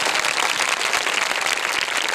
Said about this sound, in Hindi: हो तालियां बजाओ यीशु के।